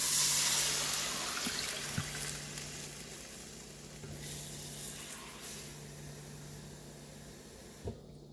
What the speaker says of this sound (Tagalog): Lalagyan na po natin siya ng tubig.